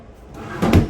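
A drawer in a hotel room at Disney's Contemporary Resort slides and thuds open or shut, a short close knock that rises out of a quiet room tone with no speech.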